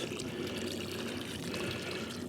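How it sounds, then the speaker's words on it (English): Watering can pouring water onto sieved compost, a steady close splashing trickle that stays even and continuous throughout. "Right, I'm just going to water that all in now."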